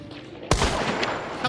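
A single loud, close gunshot in the video game Hunt: Showdown, an abrupt crack followed by a rumbling tail that decays over the next second, with a fainter second report near the end.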